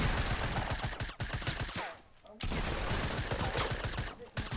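Rapid gunfire in the Fortnite video game crackles in dense bursts, almost continuous apart from a brief lull, harsh and busy throughout.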